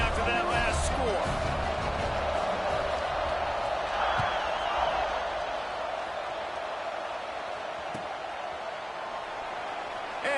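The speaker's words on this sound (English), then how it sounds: "this crowd is buzzing after that last score." Football stadium crowd buzzing after a score in an Oregon versus Alabama game, a steady, dense roar of many voices filling the whole stretch, with a faint thud or two in the mix.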